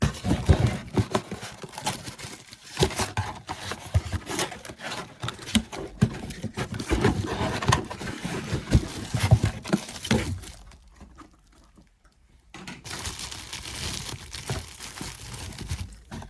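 A small box of packaging for a job lot of Hornby 0 gauge tiny tank engines is torn open, with rustling, crinkling and scraping handling noises that pause briefly before resuming.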